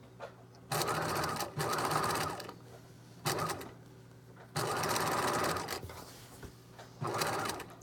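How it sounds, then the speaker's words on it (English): A sewing machine stitches the side seam of a yoke skirt in several loud, close bursts of rapid mechanical clatter, each lasting about a second, separated by quieter pauses. "So I'm just going to stitch down to here, back stitch here, and then we'll do the bottom half of the skirt."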